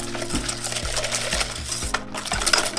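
Egg yolks and sugar whisked by hand in a bowl, the whisk ticking rhythmically against the sides in steady strokes, close and fairly loud with no talk.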